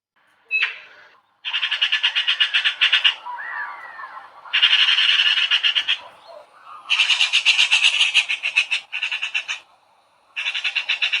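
A magpie gives bursts of harsh, rapid chattering calls, loud and close, separated by short pauses, with no voices.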